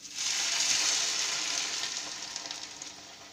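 Onions frying in a pan: a quiet, bright sizzle that swells quickly, then gradually fades with light crackles over a few seconds.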